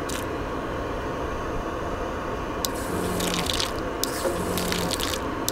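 Water runs from a sensor tap at an outdoor camping trip, in two short hissing bursts a second or so apart over a steady background hum.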